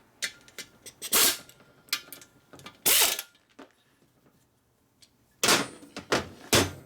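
Nuts being spun down by hand on a 1947 Harley-Davidson EL knucklehead 74ci motor during a rebuild, with scattered metallic clicks and ratcheting bursts separated by quiet pauses.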